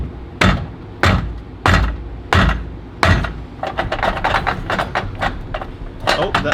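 Hammer striking an exhaust header during a difficult header install, five heavy, evenly spaced metallic blows followed by a flurry of quicker, lighter taps, close and loud.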